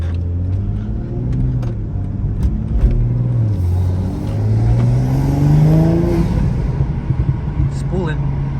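A G42 BMW M240 fitted with downpipes pulls away as its turbo spools, a rising engine drone swelling in repeated climbs at close range while people talk over it.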